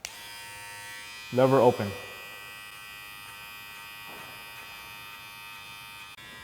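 Wahl electric hair clipper fitted with a 1.5 guide comb, fading hair at a barber demonstration, a steady close mechanical buzz that continues throughout, with a short burst of speech over it near the start.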